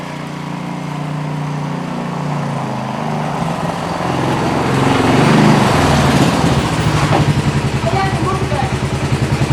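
A rebuilt 570 engine that no longer burns oil runs close by, first idling in a steady hum, then revving up through the middle and settling into a fast, regular pulsing beat.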